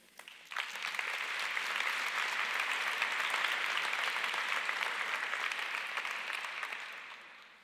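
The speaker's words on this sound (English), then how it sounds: "I really like to welcome them with a big applause" A large keynote audience at a user conference in Amsterdam gives sustained applause, rising quickly to a full even roar of clapping that holds for several seconds and tapers off at the end.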